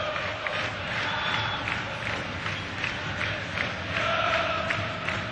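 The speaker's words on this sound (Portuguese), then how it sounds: "Enquanto a torcida do Fluminense comemora e a bola rola no Maracanã" Fluminense supporters at the Maracanã roar steadily through a 2008 Copa Libertadores group match against Arsenal, a dense, continuous crowd swell with faint whistles rising and falling in the background.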